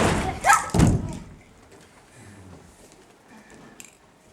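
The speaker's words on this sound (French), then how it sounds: "La porte claqua." A door slams shut during a sixth-grade school theatre play, two loud heavy thuds close together near the start, then a low murmur of room noise and stage movement.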